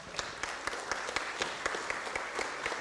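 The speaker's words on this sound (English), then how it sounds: "let's give them another round of applause" Applause fills a Fresno city council meeting chamber, a dense, steady patter of many hands clapping together at moderate volume for a few seconds.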